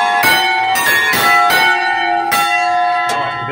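Church bells of San Bartolomeo in Ossona ring loudly in repeated strikes about a second apart, each stroke leaving a long, sustained hum that carries into the next, with no voices.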